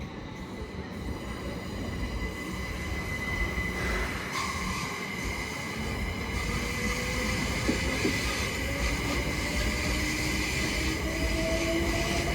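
A Class 377 electric train on a Horsham service rolls through Clapham Junction, a steady loud rumble of wheels and motors with faint rising whine and a brief squeal, continuous for the whole stretch with no talk.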